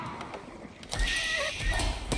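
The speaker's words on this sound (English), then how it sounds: "That's a lot of horses." Horses neigh and whinny amid battle noise in Age of Empires IV, an English versus Mongols match with masses of horsemen; a whinny rises after a quieter opening, with hoof clatter and game effects continuing underneath.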